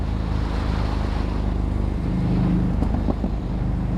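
A Ducati Scrambler motorcycle cruises along a motorway, a steady loud low engine drone blending with heavy wind and road roar, without any talk.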